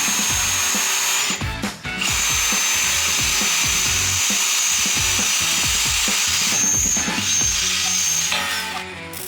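A power drill bores through metal radius arm mounts on a belly-tanker build, a loud steady whine running continuously with brief dips as the bit catches and the drill is repositioned, close by and with no talk.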